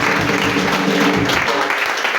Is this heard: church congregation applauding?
yes